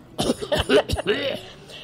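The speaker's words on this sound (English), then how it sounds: "a pseudo-cigarette package that produced simulated coughing sounds when the package was picked up" A short series of harsh, close simulated coughing bursts from a novelty cigarette package, in quick succession, trailing into a rasp.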